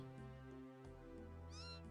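A cat meows in Old School RuneScape, one short rising-falling meow near the end over sustained background game music, faint overall.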